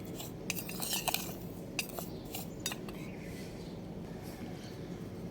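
Metal spoon clinking and scraping in a bowl while eggshell powder is stirred into a homemade organic fertilizer mix for flowering and fruiting plants, with a cluster of bright taps early, then softer intermittent scrapes over a steady low background.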